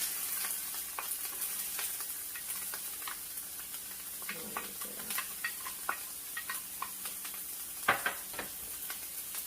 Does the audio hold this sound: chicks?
no